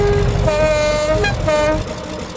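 A Castle Class steam locomotive's horn in the Roblox railway game gives two loud, bright, sustained toots in quick succession, the second fading out, with no voices over it.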